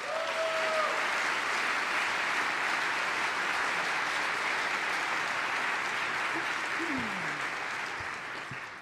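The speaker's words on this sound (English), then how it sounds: "please, a round of applause for Kerri Miller" Audience applauding a public radio host stepping up at a live talk event, sustained dense clapping from a large crowd at steady volume, with a faint whistle and a few cheers mixed in, tapering slightly at the end.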